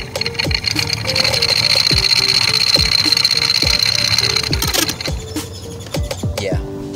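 An Infiniti G35 blower motor runs with a steady whirring hum, broken by repeated knocking ticks that suggest a loose part, loud and close, with a brief shift in the noise near the end.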